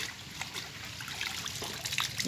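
Water trickles and dribbles from a bamboo leaf close by, a soft, steady patter and splash with faint background noise.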